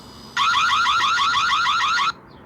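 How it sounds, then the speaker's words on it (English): A loud, steady warbling electronic alarm from an automatic chicken coop door camera sounds close by for under two seconds, then stops abruptly. "And we could set an alarm too."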